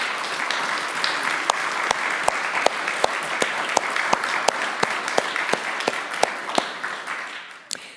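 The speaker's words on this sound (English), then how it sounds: "as well as Achille Mbembe, a round of applause." An audience applauds steadily, a dense wash of clapping with a few sharp individual claps standing out, tapering off at the end.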